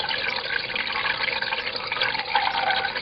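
Water flows steadily over a hydrofall during leak testing, a close continuous rush and splash with no break.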